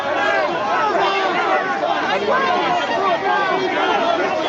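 Crowd of protesters gathered on a bridge during street unrest, a dense, continuous babble of many overlapping voices and shouts at close range, steady and loud throughout.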